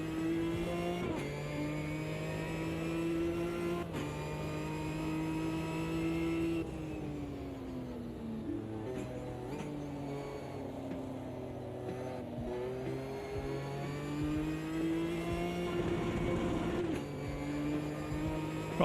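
A race car engine in the sim racing game AMS2 revs and holds high, steady tones, with repeated gear-shift drops and rises in pitch, loud and continuous with no speech.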